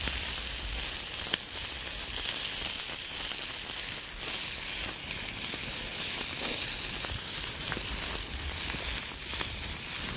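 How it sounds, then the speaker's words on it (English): A fresh bun toasting over a winter campfire gives a steady, close hiss of sizzle and faint crackle that runs evenly throughout, with no voices. "And we'll try to toast it up just a little here."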